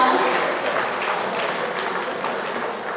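Audience applause at a Yashasvi Gaurav award ceremony honouring a student leader: steady, dense clapping that fills the room for the full stretch at an even level.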